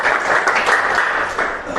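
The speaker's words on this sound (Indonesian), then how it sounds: "tepuk tangan untuk kalian semua." Applause for a group of students at a school assembly, a steady wash of clapping from a crowd heard alone and fairly loud for under two seconds.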